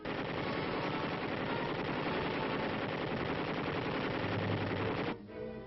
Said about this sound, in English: guns fire live ammunition over the heads of the men as they crawl 75 yards toward the finish line